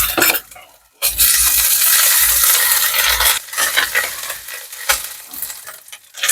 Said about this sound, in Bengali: আদা রসুন ভালোভাবে ভাজা হয়ে গেছে।